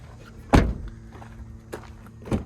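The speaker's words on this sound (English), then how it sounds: "The doors sound good." A used car's doors are shut at an auction, one solid close thud followed by two fainter knocks a little later, with a quiet background hum.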